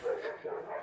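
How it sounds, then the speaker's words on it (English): A dog barking indoors, two short yappy barks close by and fairly soft, with slight whimpering quality. "Here, my dog's barking."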